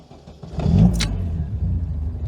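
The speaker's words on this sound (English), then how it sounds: "Let's fire up the engine." An MGB sports car engine cranks and catches, rising to a loud, lumpy idle close by with a brief metallic rattle near the start.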